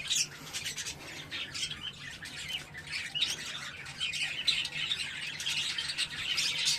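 Many budgerigars squawk and chirp together in a busy, continuous chatter, a crowded flock of small birds calling without pause.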